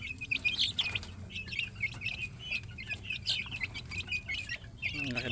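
Hens and growing chicks clucking and peeping close by, with scattered chirps, wing flaps and some background noise, no clear speech.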